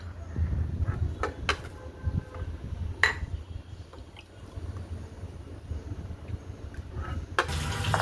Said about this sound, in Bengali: এরপর একটি ছাঁকুনি দিয়ে আমরা জুসটিকে বের করে নেব